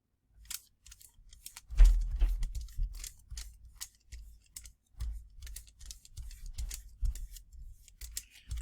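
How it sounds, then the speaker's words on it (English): A fingertip rubs thin aluminum foil pressed over a postage stamp, giving quiet, scattered crinkles and soft scratchy strokes. They come in irregular bursts with near silence between them. "Placing aluminum foil over the stamp and rubbing it with your finger is the method I use."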